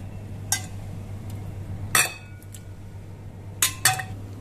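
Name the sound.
cooked green pea dal transferred into a serving bowl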